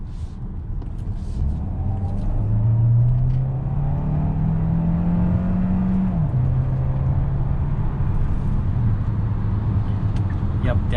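A 2021 Hyundai Santa Fe Hybrid's gasoline engine kicks in to assist the hybrid system under harder acceleration. It sounds like a steady, close interior drone that climbs in pitch, drops briefly and then holds over continuous road noise.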